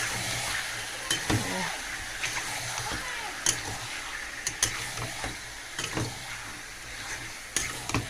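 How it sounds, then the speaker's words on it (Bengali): Meat sautéing in a pan, a low, continuous sizzle with repeated scrapes and clacks of a stirring spoon, with a voice talking over it. "মাংসটা কষিয়ে নেবো ভালো করে।"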